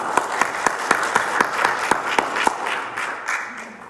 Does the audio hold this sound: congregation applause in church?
yes